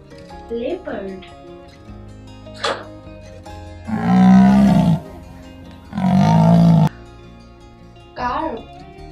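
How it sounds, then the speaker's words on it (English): A leopard gives two loud, rasping roars, each about a second long and a second apart, with short spoken words before and after them. "Leopard."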